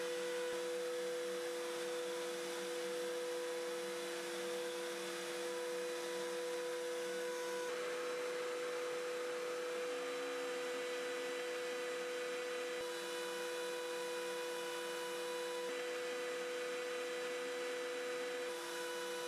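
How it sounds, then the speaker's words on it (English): A router table spins a V-groove bit as it mills the underside of a wooden workpiece, giving a steady, loud whine with a constant tone that holds for the whole stretch, with no talk. "With a V-groove bit, I'll also try to mill the bottom of the piece."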